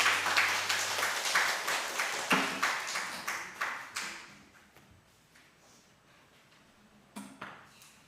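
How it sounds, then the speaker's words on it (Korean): Congregation applause in a church during a Sunday service, a few seconds of clapping that fades out, followed by a short second burst of claps. "우리 삼위 하나님께 영광의 박수를 돌립니다."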